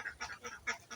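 Ducks on a duck farm quack in a quick series of about six nasal calls, close and fairly loud, with no voices over them.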